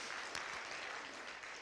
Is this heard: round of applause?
yes